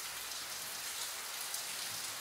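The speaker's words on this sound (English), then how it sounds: "It's raining so hard." Heavy rain pouring down in a steady, dense hiss of drops on surfaces, constant and close with no talk.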